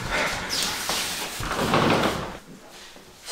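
Someone opens a house door indoors, giving short creaks and soft clunks over a dull background for a few seconds.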